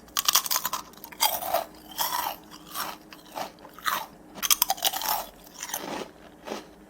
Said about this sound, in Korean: 진짜 과자처럼 정말 파사사삭 소리가 날 만큼 그렇게 바삭해요